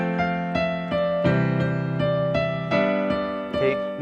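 Piano playing the Ode to Joy melody over simple left-hand chords, steady even notes with sustained bass chords underneath, clear and close, no talk.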